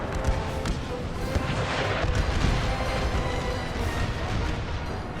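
Massed musket gunfire from an American Civil War battle game set in the Wilderness, a dense continuous crackle of shots and low booms with no pauses, loud and close throughout.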